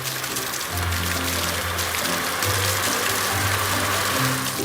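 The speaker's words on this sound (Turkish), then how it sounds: "sulama aracı köpüğü yıkıyor." A cartoon watering truck sprays water to rinse soap foam off a green car, a continuous rushing hiss with low musical tones running underneath.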